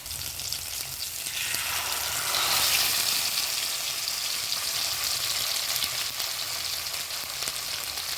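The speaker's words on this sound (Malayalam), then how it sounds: "ഇനി നമുക്ക് ഇത് ഒന്ന് ഹാഫ് വേവിൽ ചെറുതായിട്ട് ഫ്രൈ ചെയ്തെടുക്കാം" Food sizzles steadily as it fries half-cooked in coconut oil in a pan, a dense, crackling hiss that stays constant and close with no talking throughout.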